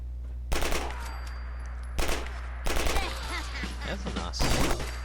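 Uzi submachine gun in Fallout 4 fires several short loud bursts of rapid automatic shots, separated by brief pauses, over a steady low game hum.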